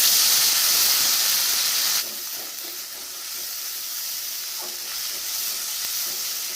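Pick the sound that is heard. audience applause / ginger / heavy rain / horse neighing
ginger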